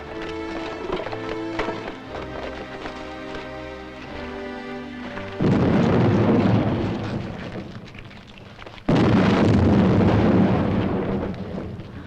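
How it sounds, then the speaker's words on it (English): An explosion goes off in a mine: a sudden heavy roaring burst that rumbles and fades, then a second abrupt blast, both loud and close, following music-like tones. "Explosion coming! Explosion coming!"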